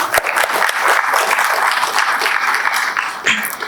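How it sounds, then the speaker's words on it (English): Applause from an audience at an artificial intelligence symposium in India, loud and sustained, with dense clapping filling the room throughout and a faint voice beneath it. "Let's have a huge round of applause for those guests and dignitaries present amongst us."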